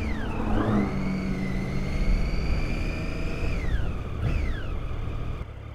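A 2013 Triumph Street Triple R engine revs up close and loud, its pitch sweeping up, holding high, then dropping and briefly rising again over a steady rumble.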